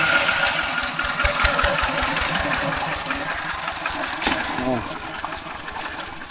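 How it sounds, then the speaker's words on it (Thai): A steady tractor engine idles with a rhythmic chugging pulse, fairly close and loud, running continuously throughout, in rural Thailand. "รถไถเขาใช้ประจำได้ทุกคนแถวนี้เนาะ"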